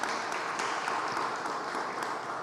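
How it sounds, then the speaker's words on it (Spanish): Audience applause at the opening of an exhibition, a steady wash of many hands clapping that runs throughout at moderate level, with no voices over it. "Un fuerte aplauso para él."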